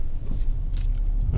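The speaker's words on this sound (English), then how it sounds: "Push button start." A 2017 Ford Expedition Limited's engine turns over by push-button start, a low deep rumble rising and settling into a steady idle, heard from inside the cabin, close and fairly loud.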